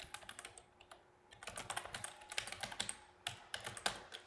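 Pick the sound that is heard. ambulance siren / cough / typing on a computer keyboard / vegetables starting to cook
typing on a computer keyboard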